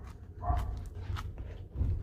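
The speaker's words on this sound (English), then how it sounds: "I can hear the dogs barking up a storm." Dogs bark somewhere indoors at a distance, muffled and faint, with a few short yips rising over a low rumbling background.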